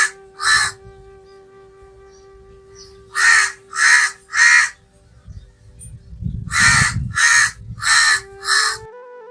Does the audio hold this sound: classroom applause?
no